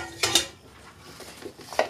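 Ground beef with onion and drained green beans is stirred in a pot, with a couple of clear spoon clanks against the metal and softer scraping between them, close and without talk.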